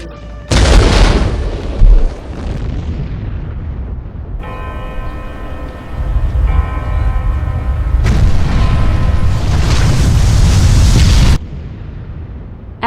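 A loud booming missile launch and explosion effect: a heavy roaring blast opens, then a sustained rumbling whoosh with a tonal hum, swelling into a second long roaring burst before cutting off.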